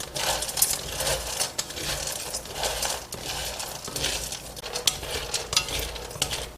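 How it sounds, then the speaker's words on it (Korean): Dried steamed ginger slices rattle and clatter in a loose, continuous stream, scraping and tumbling against each other and their container at close range, with no talking. "24시간 이상 말리면 이렇게 달그락 소리가 날 정도로 잘 말라요."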